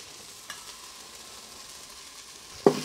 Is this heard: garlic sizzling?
yes